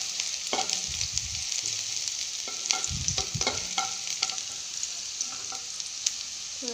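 Onions fry in a pan for Maggi masala tadka, giving a steady bright sizzle throughout, broken by intermittent scraping and knocking as a spoon stirs them, close and loud with no talking.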